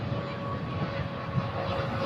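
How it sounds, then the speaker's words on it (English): An airliner takes off at LAX, its engines producing a steady, fairly loud broadband roar that holds evenly throughout without breaks. "Silky smooth takeoff."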